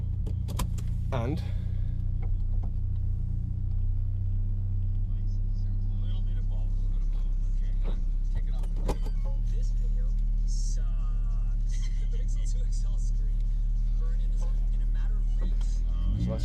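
A car engine turns over and settles into a steady low idle, heard up close from inside the vehicle with a few clicks and a brief spoken word.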